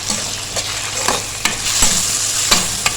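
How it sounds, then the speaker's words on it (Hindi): Boneless chicken pieces with ginger and garlic frying in a pan, a steady close sizzle broken by several sharp scrapes and clacks of a spoon stirring at uneven intervals, with no talking. "अब इसको अच्छे से मिक्स कर लेंगे और इसको इतना फ्राई करेंगे कि ये चिकन का जो कलर है ये चेंज हो"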